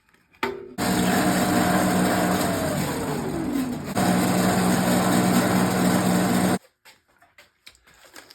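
A power drill bores 1/4 inch holes, whining loudly and steadily for several seconds, with a dip in pitch partway through as the bit bites, then stopping abruptly before light handling noises.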